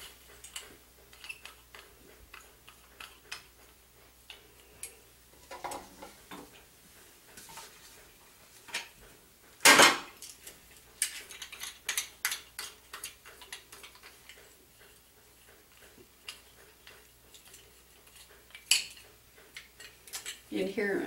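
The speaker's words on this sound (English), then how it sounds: "That's the dogs in the other room licking on the other water bottle holder." Dogs licking at a metal pet water bottle holder in another room: faint, irregular rapid ticking and clinking taps repeating throughout, with one louder clatter midway, distant and soft.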